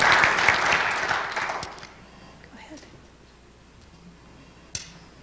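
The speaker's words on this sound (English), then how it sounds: "please join me in applauding our newest Communications and Associate of Arts students." Audience applause for new Communications and Associate of Arts students at a college signing day event, loud and sustained for about two seconds before fading into quiet room ambience with a brief sharp knock near the end.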